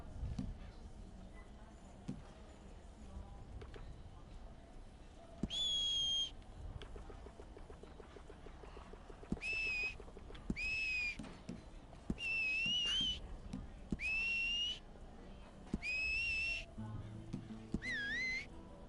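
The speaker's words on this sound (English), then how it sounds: "He has no teeth. How's he whistling?" A character in Red Dead Redemption 2 whistles a series of short melodic phrases, repeated bursts separated by pauses, clear over quiet game ambience and low rumbling.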